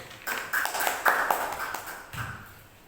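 A small class claps in a few uneven bursts, sharp hand claps rising and fading over a couple of seconds in a quiet room, moderately close.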